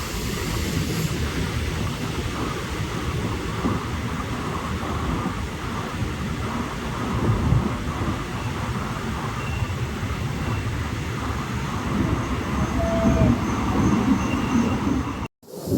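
The Tuticorin - Mettupalayam Express rolls into Sattur station, a continuous loud rumble and clatter of wheels and carriages, with a short high tone near the end before the sound cuts off.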